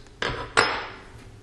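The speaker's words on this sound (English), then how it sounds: "we can pull back on the charging handle and remove the bolt. And you can remove the charging handle." Two sharp metallic clacks from an AR-15 rifle's charging handle being pulled back and removed during a field strip, close and crisp, each ringing briefly before fading, with no talking.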